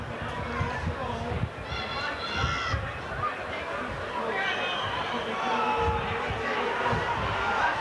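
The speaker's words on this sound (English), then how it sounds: "We can hear what the crowd in the House of Pain think about that." A rugby league crowd at Warrington's ground in 1990 roars and jeers in a loud, sustained swell after foul play, with shouts and whistles rising and falling throughout.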